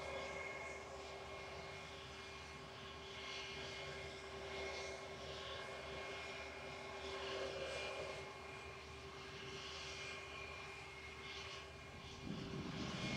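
Lufthansa Airbus A321 Classic spools up its engines at Manchester Airport, a faint but steady jet whine and rumble with tonal hums throughout, rising slightly near the end.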